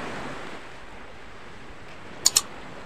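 Waves washing onto a beach shoreline, a steady soft surf roar with wind noise across the microphone, then two brief sharp clicks near the end.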